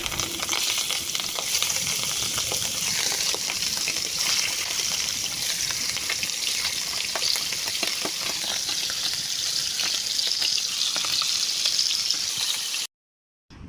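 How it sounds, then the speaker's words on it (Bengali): Hilsa fish pieces seasoned with turmeric, chili and salt fry in hot oil, giving a steady, loud, crackling sizzle that runs unbroken for about thirteen seconds before cutting out abruptly. "তারপর তেলের মধ্যে দিয়ে সুন্দর করে ভেজে নিব।"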